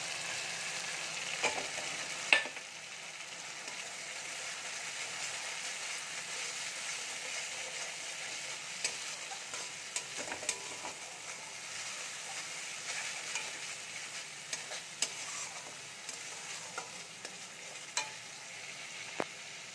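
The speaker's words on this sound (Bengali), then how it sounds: "মশলাটা একটু ভালো করে কষিয়ে নেব" Mustard fish masala with turmeric and salt fries in a pan, a steady soft sizzle broken by occasional clinks and scrapes of stirring, close and fairly quiet with no voices.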